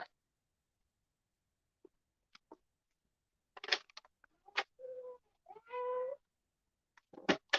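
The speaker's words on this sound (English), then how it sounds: "Looks like I got a cat that is wanting in." A cat wanting to be let in meows a few times, short plaintive calls spaced out between quiet gaps, with a few faint clicks and knocks around them.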